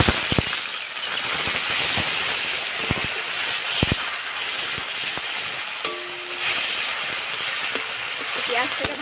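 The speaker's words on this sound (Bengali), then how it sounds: "পেঁয়াজটাকে ভালো করে ভেজে নেব।" Grated onion fries in hot oil with whole garam masala, bay leaves and dried red chillies for a prawn malai curry, giving a steady, even sizzle and hiss throughout, with a few brief clicks and clatters on top.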